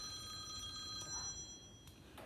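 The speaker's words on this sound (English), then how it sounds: "the phone rang" A telephone rings in a workshop where a biogas blow torch is used for melting metal, a faint electronic ring with steady tones under a constant background hiss.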